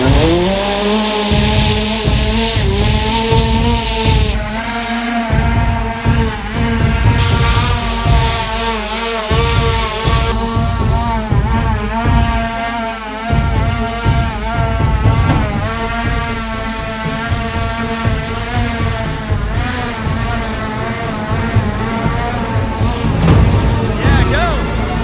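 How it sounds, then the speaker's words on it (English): Jet-powered hoverboard engines starting up outdoors by a house, a loud rising whine and roar that settles into a sustained, harsh turbine drone with shifting pitch, close and dominating throughout. "He's starting his engines."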